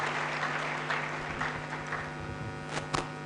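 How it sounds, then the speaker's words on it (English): An audience at a university student-industry conference applauds steadily, with dense clapping over a constant electrical hum and a few sharper claps near the end. "Please, let's give a big round of applause to Honorable Kennedy Ohene Agyapong."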